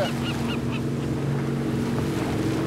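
A gull calls by the sea from aboard a boat, giving three quick harsh cries at the start over the steady low drone of the boat's engine and the wash of water.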